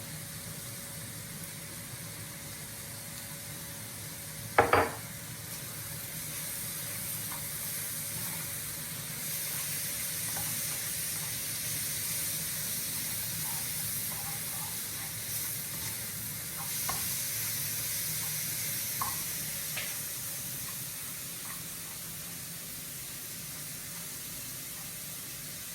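Leeks cooking in a pan with oil or butter, seasoned with salt and pepper, giving a soft continuous sizzle and hiss, a sharp clank of a utensil early on and occasional light stirring scrapes.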